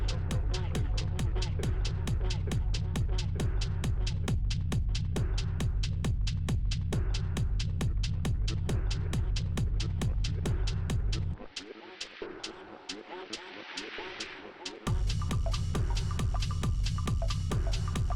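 An exhaust pipe under a Jeep JKU being cut off, heard as a loud, rapid, steady rhythmic buzzing that continues for many seconds. The noise changes briefly to a thinner whine midway, then the heavy pulsing returns.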